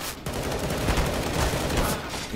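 Dense, continuous gunfire from a video game match, with rapid overlapping shots held loud and steady for the full length and no talk over it.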